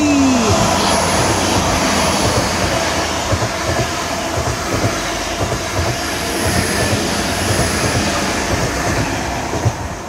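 A train rumbles past close by on the seawall at Dawlish for the whole stretch, steady heavy clatter and roar of wagons with a faint squeal at the start.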